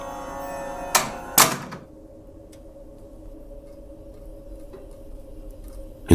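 A wooden door in an old house slams shut twice in quick succession, loud and close, followed by a quiet room tone with a faint low hum and a soft knock near the end.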